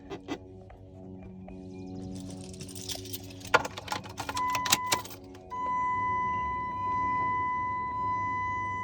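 A 2006 RAM 3500 pickup truck is started, with a brief clatter of keys and cranking followed by a steady, low idle hum and a thin electronic tone, close up and without speech.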